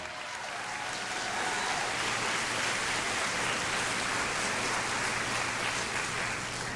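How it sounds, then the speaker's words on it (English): Steady, dense clapping from a large audience at a senior beauty pageant, sustained at an even level throughout with no voices on top. "let's give a big round of applause to the entire class of 2014"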